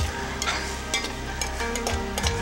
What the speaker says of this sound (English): what we're going to do is add a bit of stock to deglaze it